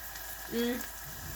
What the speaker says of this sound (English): while the onions are browning with the garlic